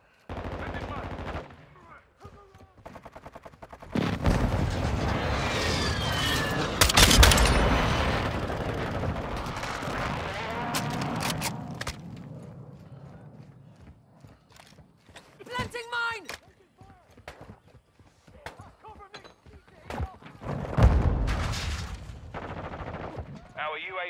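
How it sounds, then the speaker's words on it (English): Gunfire and blasts from a friendly airstrike in Call of Duty: Modern Warfare II, with dense loud explosions and automatic fire, then scattered bursts and shots, with game voices talking over it. "Friendly airstrike in the AO."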